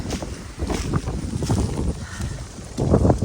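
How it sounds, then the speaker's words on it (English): Wind gusting hard across an open, cold mountainside, a continuous rough roar buffeting the microphone with swelling gusts and no clear talk. "Wind's blowing."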